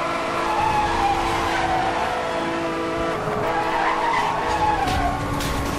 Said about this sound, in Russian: О, пошел штопор. Это дрифт.